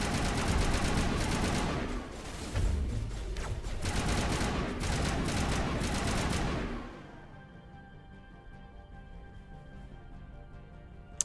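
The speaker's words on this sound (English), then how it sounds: "there's been an awful lot of gunfire here" Gunfire in the video game Mass Effect Legendary Edition crackles in dense, rapid bursts for about seven seconds, loud and continuous with short lulls, then cuts off, leaving only a faint low hum.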